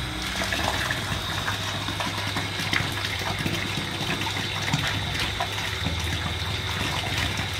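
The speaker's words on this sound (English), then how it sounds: "water coming from the main into the bucket" Water from the mains supply pours steadily into a bucket beside a pump, a constant close splashing gush with no voices.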